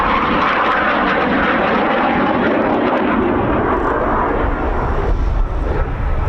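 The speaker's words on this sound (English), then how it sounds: "Showing you all the angles of this single-seat Rafale C model." A single-seat Dassault Rafale C jet fighter flies a display at the RAF Cosford Air Show, a loud, continuous engine roar that holds steady throughout and eases slightly near the end.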